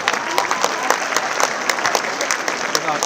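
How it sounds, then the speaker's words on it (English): A crowd at a Canary School event claps loudly and continuously, many hands blending into an even roar of applause with sharper individual claps popping out, while a voice is faintly present beneath it. "I'm hearing a louder applaud"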